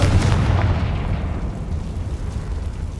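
A Confringo blast spell exploding in the video game Hogwarts Legacy: a loud, deep booming burst that rumbles and slowly fades over a few seconds.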